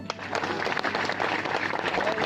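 An audience at a Christian youth gathering claps in dense, steady applause lasting a couple of seconds, with a voice faintly mixed in.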